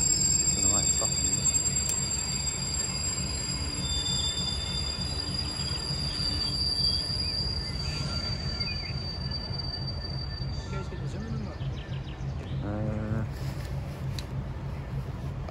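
A freight train near Edinburgh rolls slowly to a stop with squealing wheels and clanking, the rumble easing off, while people talk nearby.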